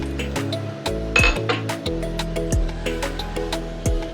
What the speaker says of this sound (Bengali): এগুলো একটু এই হামানদিস্তায় থেঁতো করে নেব